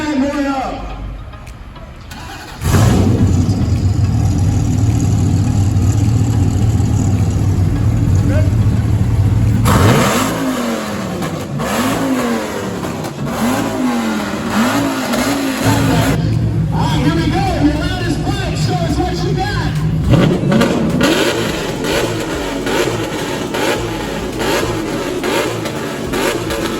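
A car engine revs hard at a car show and racing event, holding a loud steady drone before swelling and falling in repeated throttle blips, with people talking over it.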